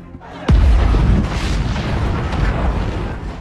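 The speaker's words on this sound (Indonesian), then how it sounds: "Dengan santai, Travis menyiapkan bahan peledak yang digunakan untuk mengalihkan perhatian mereka." Explosives detonate in a Liam Neeson action film with a sudden loud boom, followed by a long, roaring rumble of debris and fire that slowly fades.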